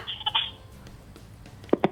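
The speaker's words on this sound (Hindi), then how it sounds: "एक टेलीफोन कॉल है, लेट्स सी कि कौन है।" Brief high electronic telephone tones sound near the start of a live Pakistani morning TV show on New Year's Day, signalling an incoming call, followed by faint low background and a couple of short soft knocks.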